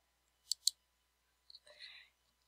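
Two quick, crisp computer mouse clicks on an OK button come close together, followed by a brief soft rustle in an otherwise quiet room.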